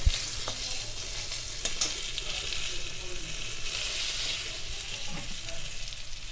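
Mustard paste goes into a sizzling mango curry in a pan. The oil hisses steadily with an occasional soft stir or scrape, and there is no talking.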